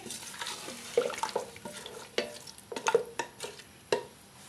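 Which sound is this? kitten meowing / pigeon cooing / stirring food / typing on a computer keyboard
stirring food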